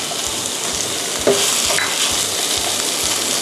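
Prawns with sator beans stir-fried in a hot pan give a steady, loud, even sizzle throughout, with a light scrape of stirring partway through.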